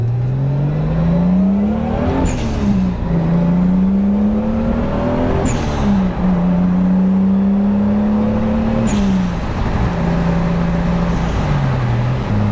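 An old 1990 Toyota Supra Mark III drives on a Sunday morning, its engine droning steadily and climbing in pitch through three gears, with a brief dip at each shift, loud and close throughout.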